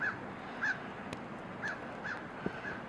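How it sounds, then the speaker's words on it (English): A crow caws repeatedly from a distance in a snowy winter garden with bonsai trees, giving about five short, evenly spaced calls over faint outdoor background noise. "the awesome crow in the background"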